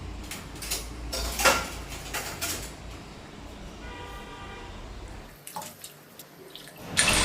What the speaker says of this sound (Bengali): মাংসটা এখন ভালো করে জল দিয়ে ধুয়ে নিচ্ছি।